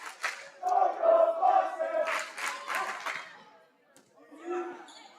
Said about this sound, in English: The crowd letting her hear it.